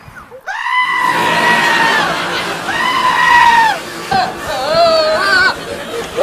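A goat bleats three times in long, wavering, nasal cries, close and loud, with some background noise between the calls.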